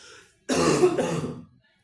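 A single throaty cough, close and fairly loud, rasping for about a second before silence.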